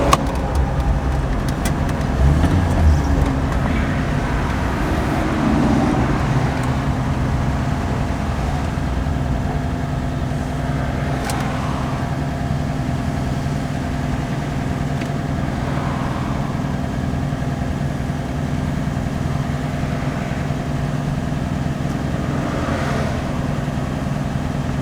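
A turbocharged slant-six Dodge Dart with a missing high gear drives along steadily, its engine droning close and continuous with a few shifts in pitch, and no voices.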